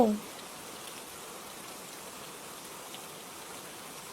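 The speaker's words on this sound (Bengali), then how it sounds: "একটু আগেই বৃষ্টিটা থেমে গেছিল, এখন যে আবার কেন নামতে গেল?" Steady rain hisses evenly throughout, a soft continuous wash of drops with no other distinct sounds.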